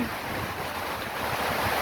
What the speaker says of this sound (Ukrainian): але саме звуки води, і це неймовірно.